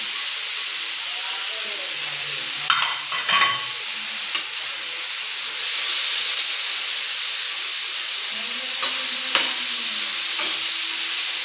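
Grated coconut and coriander roasting in a pan for mushroom masala, a soft steady hiss with a few clattering spatula stirs and scrapes, plus brief faint tones in the background.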